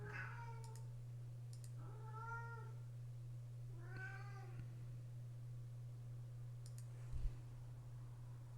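A cat meows three times in a row, each call clear and moderately close, over a steady electrical hum, with a few soft clicks in the gaps and one short knock near the end.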